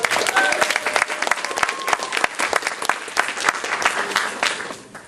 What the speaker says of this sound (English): Let's give Rachel one more round of applause.